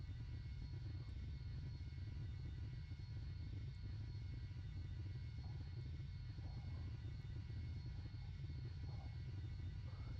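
A steady, low engine roar from an airplane racing along too fast in the PTFS flight game, a constant dense rumble with a faint high whine that holds unchanged throughout.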